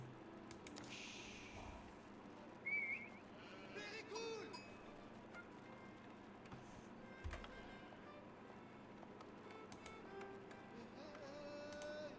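Sheep bleat in an Age of Empires-style real-time strategy match, a few short faint calls scattered under steady game ambience and a commentator talking over it.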